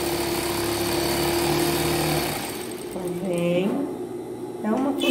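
A sewing machine stitches around a piece of fabric with a steady whirring buzz for about two seconds, then stops while someone talks over quieter background.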